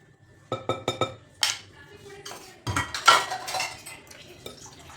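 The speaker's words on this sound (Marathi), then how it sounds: "आपण कॅरमलाईज केलेली साखर टाकल्यानंतर मिक्स करून घ्यायचं आहे" A spoon clinks and scrapes in a metal kadhai (wok) as caramelized sugar is stirred into wheat-flour Christmas fruit cake batter, with several sharp clinks up close followed by steady scraping and stirring.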